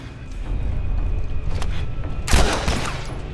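Gunfire in the video game The Last of Us: a burst of loud, close shots rings out over a busy background of game noise, with no talking.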